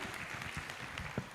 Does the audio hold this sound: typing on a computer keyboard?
no